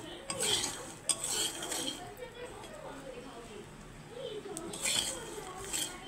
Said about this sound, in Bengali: কম আঁচে ভেজে নিচ্ছি